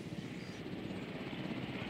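A helicopter flies in the Jurassic World Evolution video game, a steady, close rotor drone and rumble holding even throughout with no voices.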